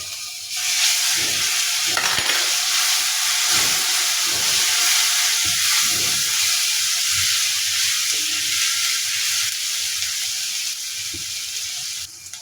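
Onion frying in a pan with turmeric and garlic paste, a loud continuous sizzling hiss close by with intermittent scraping stirs throughout, no talking.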